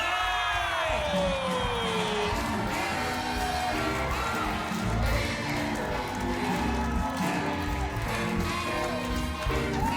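A comedy club audience cheers, whoops and claps loudly for a guest in a sustained wall of crowd noise that carries on for several seconds.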